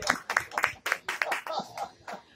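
An audience at a French-language talk show, a special Guyane edition, gives sharp, uneven bursts of hand clapping that come and go in clusters, with a voice speaking between them.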